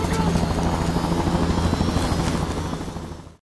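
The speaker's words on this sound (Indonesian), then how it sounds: "Dengan hanya hitungan detik aja, akhirnya helikopter mendarat" A helicopter from a heist film roars loudly with a thick rotor drone and engine whine, holding steady and then cutting off abruptly near the end.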